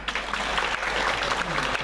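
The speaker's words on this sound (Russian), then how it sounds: "Ваши аплодисменты." Audience applause for a KVN comedy team at a scored competition in a Kudymkar cultural centre, a dense steady clapping that fills the short moment without a break.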